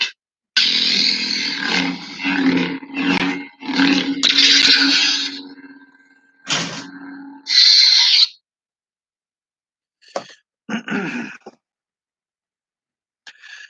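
Lightsaber sound effects played through a Proffie 1.5 soundboard in a loud saber hilt: bursts of hum, roaring swings and clashes in close succession, then silence broken by a few short electronic blips.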